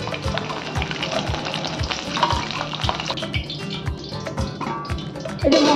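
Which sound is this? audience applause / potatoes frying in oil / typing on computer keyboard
potatoes frying in oil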